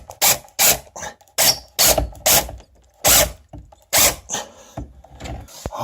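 A screw driven into a sagging cabinet board with a power driver, heard as repeated loud short whirring bursts, about seven in a row with brief pauses, close and without talk.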